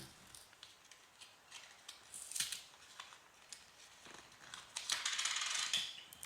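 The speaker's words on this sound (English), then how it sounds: "Let me open up the new pack. Let's just cut it open here." Scissors snipping through the plastic packaging of a new battery pack, faint close crinkles and several short cutting bursts at irregular intervals, no voice.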